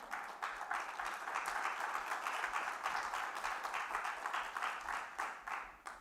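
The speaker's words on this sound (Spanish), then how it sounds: "Dale palmas al Señor." Congregation clapping during a church service, a steady dense wash of many hands that holds at an even level throughout with no talk over it.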